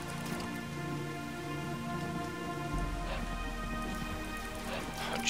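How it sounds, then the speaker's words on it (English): Heavy rain on a planet in a video game hisses as a dense, steady wash under a layer of tonal background music, with no talking. "And the rain on this planet is nuts."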